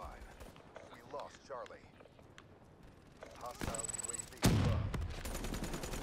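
Burst-fire weapon shots in Black Ops 3, scattered faint pops early on giving way to a louder rapid burst of shots and then a heavy loud blast near the end, with a voice talking over the first part.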